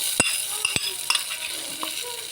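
Fried mustard seed tempering is poured into a green gram and pumpkin curry, giving a quiet, brief sizzle with a few sharp clinks of the spoon against the pan.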